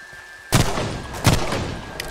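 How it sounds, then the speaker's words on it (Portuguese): Gunshots ring out outside in a zombie apocalypse game, two sharp bursts of fire about three-quarters of a second apart, moderately distant, with no talk. "Tô ouvindo um som de tiro aqui do lado de fora."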